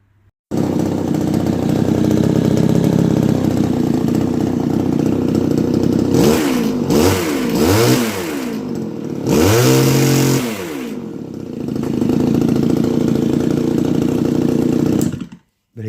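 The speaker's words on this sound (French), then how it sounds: "il a un ralenti déjà beaucoup mieux et il prend beaucoup mieux ses tours" Kawasaki TF22 brush cutter two-stroke engine running close and loud, idling steadily with a few sharp throttle blips that rev it up and drop back, no talking.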